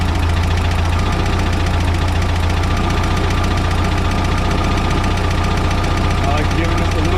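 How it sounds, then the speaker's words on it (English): Volkswagen Type 4 engine with dual carburetors running loud and close, a steady rough drone with uneven knocking as the revs drop and stumble. "Hear the RPM drop and start to stumble."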